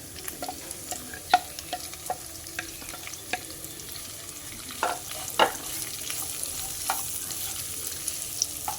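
Chopped onions tipped into frying pork and stirred, a soft sizzle under scattered spatula scrapes and clacks against the pan, close but fairly quiet, without talk.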